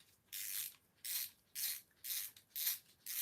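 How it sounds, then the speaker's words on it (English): Screws are worked out of a large RC car, five or six regular scraping, ratcheting bursts about half a second apart, close and fairly quiet, with no talking. "I'm just taking screws out."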